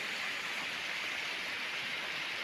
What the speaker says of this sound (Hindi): ये सुंदर झरना